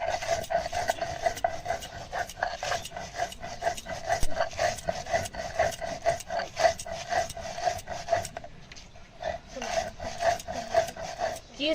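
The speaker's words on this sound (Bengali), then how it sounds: "দেখেন এই মশলাগুলো এবার বেটে নেব।" Spices for a chalta pickle are ground by hand in quick rhythmic scraping strokes of stone against stone, close and steady, briefly pausing near the end.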